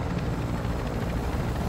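A helicopter in the DMZ mode of a Call of Duty video game whirs continuously with a steady low rotor thrum and broadband rumble, fairly loud and close, with no voices over it.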